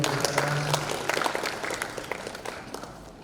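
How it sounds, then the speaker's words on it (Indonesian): Wedding guests at a church blessing ceremony applaud with a dense burst of clapping that gradually thins and fades, and a faint voice is heard beneath it. "Kita kasih tepuk tangan dulu Bapak Ibu sekalian."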